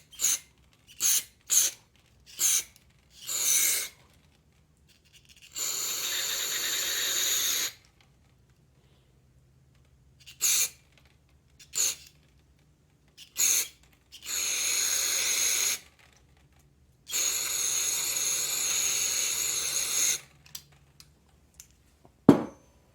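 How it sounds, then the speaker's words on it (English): Carburetor cleaner sprayed through the passages of an MTD Troy-Bilt/Yard Machines lawn equipment carburetor, a series of hissing bursts, several short puffs then longer blasts of several seconds each, close and separated by silence. "kind of blow all of these out with Carb Cleaner"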